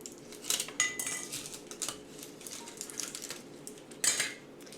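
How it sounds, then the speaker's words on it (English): A glass jar holding ashwagandha tincture is handled and opened, giving several close clinks and scrapes of glass and metal at uneven intervals against a quiet room. "So I'm going to open the jar."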